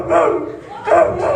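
A person's voice imitating a dog barking during a mimicry performance, two short throaty woof-like calls in quick succession, close and loud, with no other sound.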